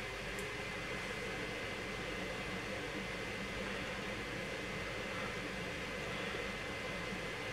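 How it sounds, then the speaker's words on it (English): A steady, broadband whirring hum of an electric fan runs continuously at low level, unchanging throughout with no voices. "My fan just started to sound, make a sound."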